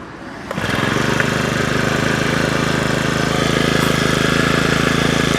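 A Honda brush cutter's small two-stroke engine catches and then revs hard with the throttle held open, a loud, steady, buzzing whine with no pause that holds flat after a brief lower start.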